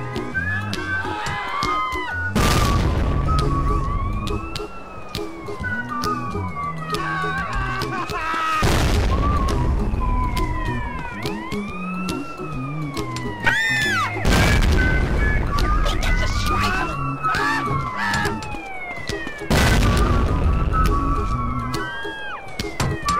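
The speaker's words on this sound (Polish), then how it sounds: "Drugi materiał to wybuchowy Andreas i jego granaty." Several heavy grenade explosions boom at intervals amid chaotic game noise in GTA San Andreas, with whooshing sweeps and clatter between the blasts.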